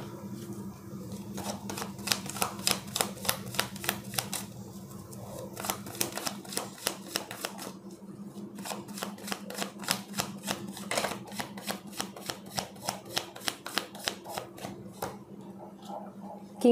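Tarot cards shuffled by hand at close range, a long run of quick, even riffling snaps in steady bursts with brief pauses between them over a low background hum.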